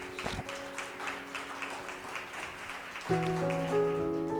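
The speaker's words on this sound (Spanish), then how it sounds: "¿Cuánto le podemos dar palmas al Señor?" A church congregation clapping for the Lord, a steady patter of many hands applauding together, with organ or keyboard chords sustaining underneath and swelling toward the end.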